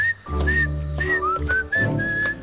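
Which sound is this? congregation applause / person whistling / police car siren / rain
person whistling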